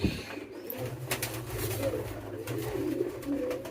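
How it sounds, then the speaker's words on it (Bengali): Pigeons coo steadily on a pigeon farm, a low murmuring drone from several birds close by, with faint scattered rustles and no talking. "আমাদের ফার্মে দেখেন আমাদের চল্লি কবুতর কিন্তু বাচ্চা বের করছে"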